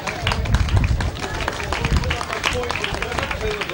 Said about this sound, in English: Let's give a big round of applause to the top three.